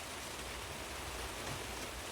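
Steady rain falling outdoors, heard as a broad even wash of noise with no distinct drops or voices.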